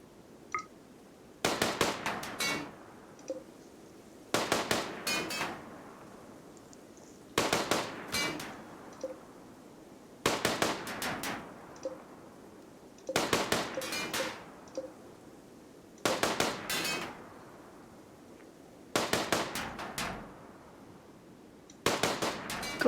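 Repeated weapon fire and blasts in the video game RimWorld, loud bursts of several sharp cracks arriving roughly every three seconds, with quiet gaps between them.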